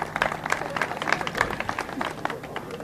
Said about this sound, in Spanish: Fuerte el aplauso, frente el aplauso para Gabriel Martínez